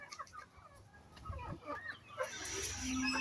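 Chickens cluck softly in a rural yard where cats have just been fed, giving short, scattered calls at close range with faint ambient noise around them.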